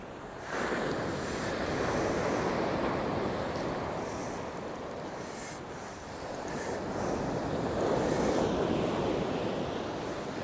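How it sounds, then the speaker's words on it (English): Sea waves breaking steadily on the beach at Withernsea on England's east coast, a continuous broad surf roar with swells rising and falling, wind buffeting the microphone throughout. "now that the sea's calmed down a bit, I might try a lighter lead again"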